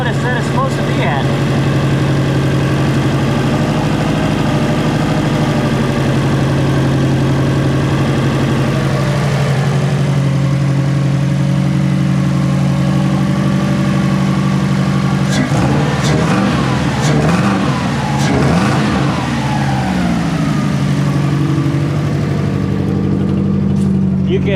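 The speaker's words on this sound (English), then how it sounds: "you can hear the exhaust leak" A car engine with an exhaust leak runs steadily and loudly close by, a continuous low rumble that shifts and roughens briefly partway through, as if the throttle is blipped, before settling back to an even idle.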